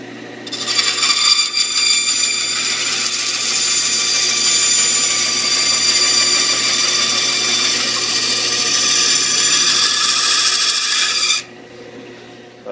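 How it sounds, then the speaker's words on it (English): Bandsaw cutting wood to trim the outline of a wooden spoon: a loud, steady high whine and rasp that runs nearly unbroken for about eleven seconds, then cuts off abruptly, leaving a quieter motor hum. "now I'm going to use the bandsaw to trim off the outside of the spoon"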